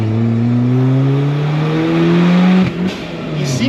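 A Ford Fiesta being built up as a twin-charger with supercharger revs hard and loud, the engine note climbing steadily then bouncing off the rev limiter at 5000 RPM, close up with no talk.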